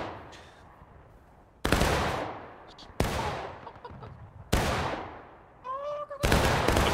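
Musket volleys in the Civil War battle game War of Rights at Burnside's Bridge, four loud sharp cracking volleys a second or so apart, each trailing into echoing rumble, with faint distant shots between.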